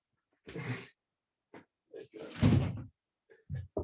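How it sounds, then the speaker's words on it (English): A door is being closed indoors, giving a short shuffling knock, then a louder, fuller thud with rattling, followed by a few light clicks as it settles. "I just want to close this door"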